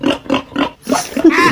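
A pig squeals in several short, loud bursts, with a rising, harsher squeal near the end that cuts off quickly. There is no other sound around it.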